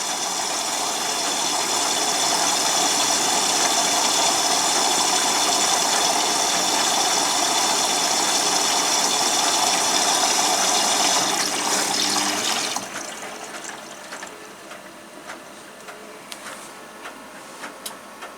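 A washing machine running a rinse: a loud, steady rushing of water and machine noise for about twelve seconds, then dropping abruptly to a quieter rumble with scattered clicks, close up.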